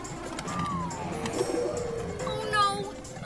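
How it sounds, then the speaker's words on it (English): A cartoon bird coos in a short run of soft, rising and falling calls, heard close and clear with cartoon characters talking around it. "Oh no, a bird."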